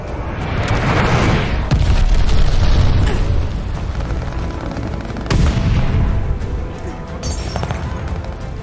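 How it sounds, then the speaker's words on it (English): Glide bomb explosion in Call of Duty Vanguard: a loud, heavy boom that rolls and rumbles for several seconds, mixed with scattered gunfire and a second sharp blast near the end. "Friendly, sending a glide bomb."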